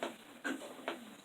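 An embroidery machine in the hoop runs the first placement stitch on an Easter table runner, giving soft, evenly spaced mechanical thumps about every half second over a faint steady whir.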